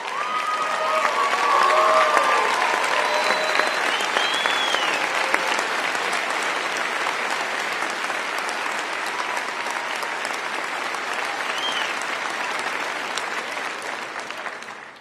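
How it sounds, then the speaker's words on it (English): A large commencement crowd gives a standing ovation at a university graduation ceremony, with dense, loud applause that swells early and holds steady for the full stretch before easing slightly at the end. "I think he is worthy of a standing ovation and a round of applause for his duty."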